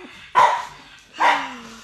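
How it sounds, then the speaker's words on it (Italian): A dog barks twice, loud and close, with a short pause between the two sharp barks, and no talking in between. "se avete più di un cane o anche un cane solo, quando comincia a abbaiare"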